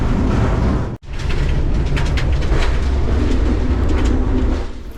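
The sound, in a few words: vintage Malaxa railcar rattling on poor railway track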